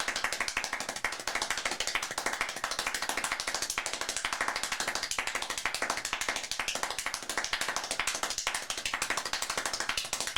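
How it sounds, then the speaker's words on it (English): Rapid hand clapping at a very fast, even rate, a dense run of sharp claps continuing for about ten seconds at close range without pause. "I think we'll go for 14 claps per second."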